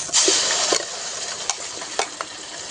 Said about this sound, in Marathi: तर इथे तेलामध्ये मसाला घालून घ्यायचा आहे